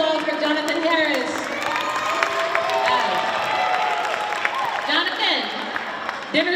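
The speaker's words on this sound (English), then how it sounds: "One more big round of applause for Jonathan Harris." Stage-event audience at a Black History Museum program claps and cheers for an essay winner, a crowd roar with whoops and shouting voices over sustained applause.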